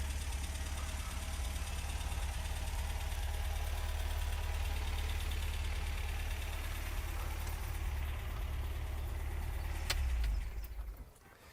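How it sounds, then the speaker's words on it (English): A 1971 MG MGB Roadster engine idles with a steady low rumble and slight knocking for several seconds, then is switched off and dies away into quiet. "I'll shut down that engine and save a few trees."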